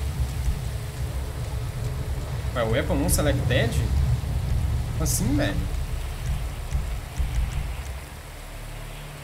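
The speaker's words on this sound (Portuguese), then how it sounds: "Trabalhar na chuva mesmo, hein?" Steady rain pours in the game GTA V, a dense continuous hiss that runs under someone talking, with a few brief game sound effects partway through.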